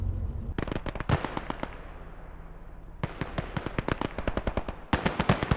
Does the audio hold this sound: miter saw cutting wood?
no